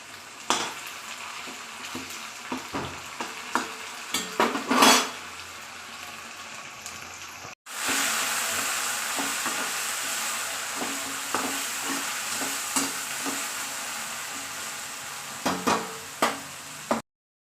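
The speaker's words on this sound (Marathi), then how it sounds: "आता मी यामध्ये मिरची टाकत आहे।" Chili and potato fry in a pan for sabudana khichdi, a steady sizzle broken by repeated scrapes and clinks of stirring, with a louder, denser sizzle after a brief cut midway.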